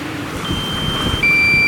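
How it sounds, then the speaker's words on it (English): A hovering drone's low-battery alarm dings out over the sea, thin sustained electronic tones rising clearly over a constant rotor whine, louder near the end. "When the drone battery alarm is dinging away and it's still hovering over the sea"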